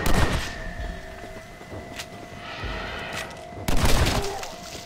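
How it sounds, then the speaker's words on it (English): Gunfire in the zombie-themed western game Red Dead Redemption: Undead Nightmare comes as repeated loud cracking shots over a steady game ambience, with a heavier burst near the end. "I'll shoot you as many times as it takes."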